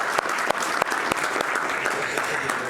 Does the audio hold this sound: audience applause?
yes